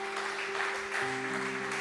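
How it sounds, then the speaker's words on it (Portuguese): Applause from a church congregation during a sermon, a steady wash of clapping held for about two seconds, with a sustained tone, likely organ or keyboard, beneath it. "Quem pode aplaudir o Senhor?"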